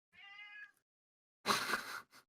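A house cat meows indoors, first a short tonal meow, then after a pause a louder, longer, rougher meow and a brief final chirp, close and with no talk.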